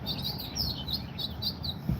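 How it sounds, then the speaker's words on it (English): Small birds chirp in quick, repeated high tweets, fairly faint and continuous over a quiet background, with no voices. "Birds are going crazy."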